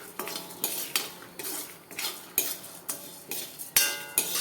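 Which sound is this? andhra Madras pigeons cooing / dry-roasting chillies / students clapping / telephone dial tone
dry-roasting chillies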